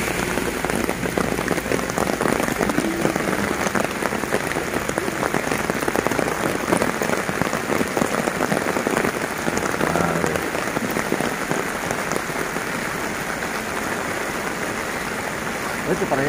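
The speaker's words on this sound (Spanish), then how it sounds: "Miren nada más cómo está lloviendo." Heavy hurricane rain from Hurricane Nora pours down in Acapulco, a loud, dense, unbroken roar of drops hammering surfaces for the whole stretch, with faint voices buried beneath.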